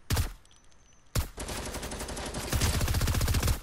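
Bursts of rapid LMG fire in a video game, one short volley, a pause, then a long sustained automatic stream with fast regular shots, loud and close.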